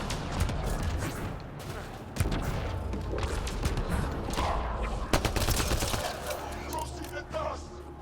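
Gunshots in Mass Effect Andromeda, a series of sharp reports and bursts with heavy impacts, loud and near, while someone talks over the firing.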